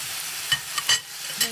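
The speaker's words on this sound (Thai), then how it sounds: "ผัดต่อไป" Ingredients stir-fried in a hot pan in a home kitchen: a steady close sizzle with a few brief, louder scraping stirs, no voices.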